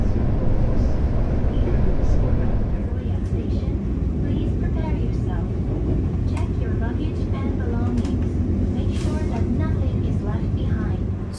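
Malabar executive passenger train running on rails in Indonesia near the Serayu River bridge, a steady loud low rumble of wheels and carriage noise throughout, with faint talk underneath.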